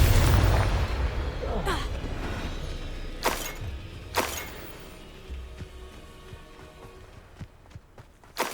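A Confringo spell cast in Hogwarts Legacy sets off a burst of game sound, with a loud rumbling blast at the start, then a few sharp cracks and crashes. These fade into a lower rumble under steady background game audio.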